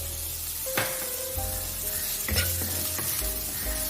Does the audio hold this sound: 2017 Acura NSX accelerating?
no